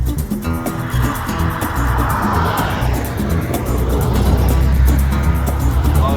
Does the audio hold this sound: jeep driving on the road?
yes